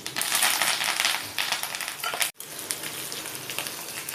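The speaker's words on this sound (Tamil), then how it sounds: "இப்போ நல்லா வதங்கட்டும்." Curry leaves and native garlic fry in hot oil in a pan for a garlic kulambu, a loud, continuous crackling sizzle that briefly drops out and then resumes slightly softer, with no talk.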